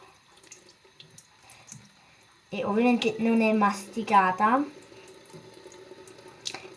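Tap water runs into a sink while slime made from an eraser is kneaded and handled under the stream, the splashing rising suddenly and lasting a couple of seconds beneath someone speaking.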